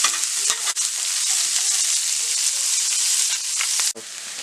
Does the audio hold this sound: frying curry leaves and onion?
yes